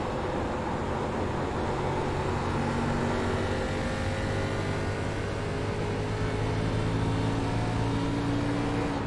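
A race car engine in the iRacing sim at Iowa Speedway holds a steady, droning whine for the full nine seconds, pitch rising and falling only slightly as the car is pushed hard around the oval.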